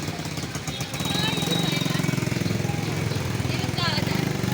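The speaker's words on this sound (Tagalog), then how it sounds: "Motor." A small motor engine runs near a flooded area, a loud rapid chugging putter that starts up after a second and keeps a steady pulsing rhythm close by, with people talking over it.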